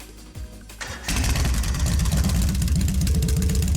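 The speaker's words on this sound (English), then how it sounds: "Alright, I'm going to start the engine now." A motorcycle engine starts up in the video game Trails of Cold Steel, with a brief cranking whir followed by a loud, close, steady rumbling idle that continues to the end.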